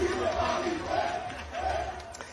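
A crowd in Bandal, Kinshasa, greeting Emmanuel Macron, with a steady mass of cheering and shouting voices close by and no pause.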